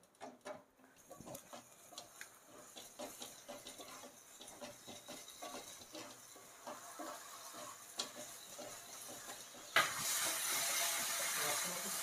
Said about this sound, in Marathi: आपला व्यवस्थित मसाला भाजून घेतला आहे.